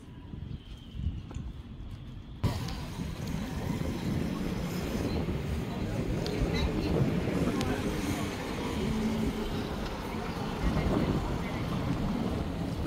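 Strong wind buffets and roars at Plaka on Milos, Greece, rushing steadily and loudly across the microphone after a brief quieter opening, with a voice faintly audible beneath the gusts.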